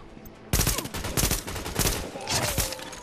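Rapid automatic gunfire in The Division game erupts after a brief quiet moment, a close, loud string of cracking shots in uneven bursts that keeps going to the end.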